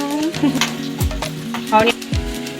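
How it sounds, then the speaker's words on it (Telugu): Onions drop into hot oil already holding cumin, mustard seeds and curry leaves, sizzling steadily up close while a utensil stirs and scrapes the pan in short bursts. "ఆయిల్ వేసుకున్న తర్వాత జీలకర్ర ఆవాలు కరివేపాకు వేసుకున్నాను. ఇప్పుడైతే ఆనియన్స్ వేసుకుంటున్నా"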